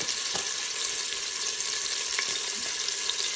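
Beef stew meat cooks in a pot, giving a steady, close sizzle with a few faint stirring scrapes and no voices.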